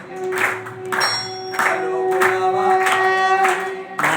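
An audience in a temple claps in a steady rhythmic beat, about two claps a second, close and moderately loud, with a sustained hum or tone running beneath the claps.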